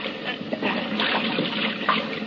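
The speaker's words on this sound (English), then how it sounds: "There sure is a lot of water out there." In a radio drama, water sloshes and splashes continuously over a short stretch, with bubbling, trickling detail and a couple of louder splashes near the end.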